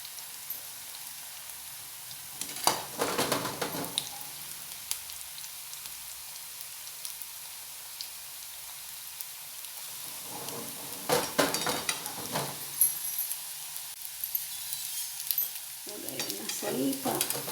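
Thalipeeth fries in a pan with a steady, soft sizzle, broken by two bursts of scraping and louder crackling as the flatbread is turned. No one speaks.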